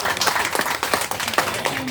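Audience at a candidate's vision and mission presentation clapping for the parents, a brisk burst of many hands with uneven peaks and a voice faintly heard near the end.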